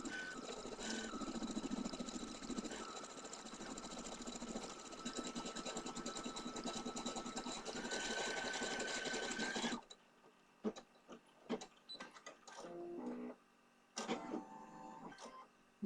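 An embroidery machine stitches a hat for a leprechaun pot-of-gold design, whirring loudly and steadily for about ten seconds before stopping, followed by a few short bursts of motor and clicking.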